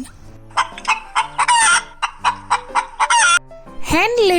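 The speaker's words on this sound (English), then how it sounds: "Hen." A farmyard hen clucks in a quick series of close, loud calls, ending with a longer drawn-out squawk, with no talk over it.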